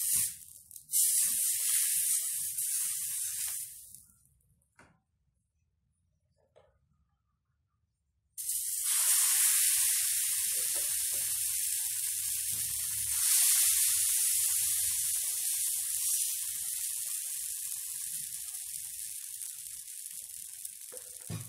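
Butter sizzles loudly in a frying pan while cornmeal pancakes are made without milk or eggs. A steady hiss drops away briefly to near silence, then returns just as strong.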